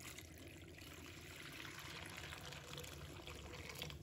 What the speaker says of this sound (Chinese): 倒入温水。